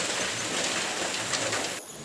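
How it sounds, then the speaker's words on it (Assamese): Dense, heavy rain pours down in a steady close roar, easing slightly just before the end. "বৰষুণ যাক এৰাৰ নামেই লোৱা নাই, ইমানেই বৰষুণ মাৰে আজি"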